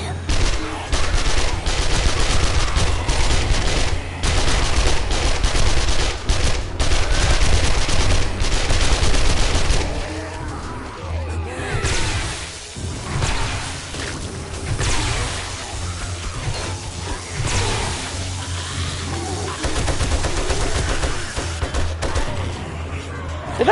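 Sustained automatic gunfire in the survival game 7 Days to Die, loud rapid bursts hammering almost continuously, easing briefly into scattered shots before firing resumes.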